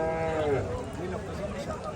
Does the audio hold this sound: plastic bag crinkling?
no